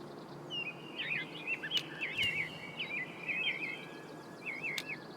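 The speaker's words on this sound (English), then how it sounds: "Wow, those birds are a bit loud." Several bird calls from the hunting video game Way of the Hunter, set in an outdoor game environment: a series of bright, warbling chirps repeating in bursts over a faint steady ambient bed, fairly close and clear with no talking.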